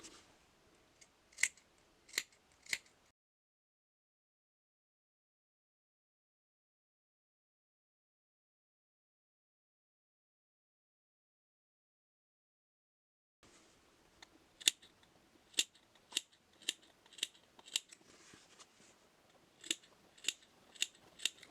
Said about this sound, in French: on coupe un peu l'angle.